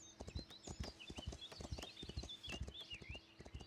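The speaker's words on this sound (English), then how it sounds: "Be quiet, horse." A horse clip-clops at a steady walk in the video game Foundation, evenly spaced hoof taps with faint chirping birds and background ambience, no clear whinny.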